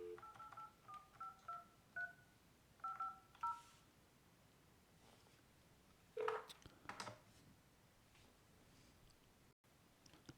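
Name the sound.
Avaya J Series phone dialing an outbound number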